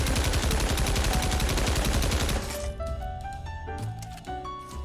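World War II guns such as the M1 Garand and Tommy gun fired in Pavlov VR, a rapid, loud burst of automatic gunfire cutting off abruptly, followed by quieter scattered shots, clinks and echoing tails.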